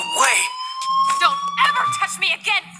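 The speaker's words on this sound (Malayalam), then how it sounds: "അലാറം അടിച്ചു ഫയർ അലാറം അടിച്ചിട്ടുണ്ടായിരുന്നു" A fire alarm rings in the video game Life is Strange, with steady high electronic tones sustained throughout and game voices talking over them.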